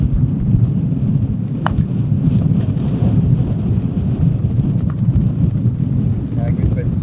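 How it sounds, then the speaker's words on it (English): Strong wind buffets the microphone on a golf course, producing a steady, loud low rumble throughout. "As you can probably hear on the mic, the wind has really, really picked up, even affecting the putts now."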